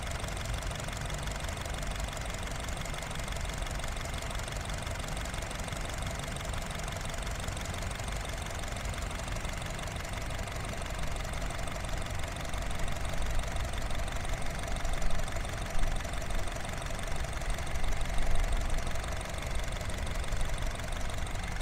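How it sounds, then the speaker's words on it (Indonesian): A 2014 Honda Jazz RS (GK5, manual) engine idles at a steady, even rhythm, a constant low mechanical hum and ticking that holds for the whole stretch with no talk. "Jadi dipastikan mesin kering, nggak ada masalah, suara irama standar."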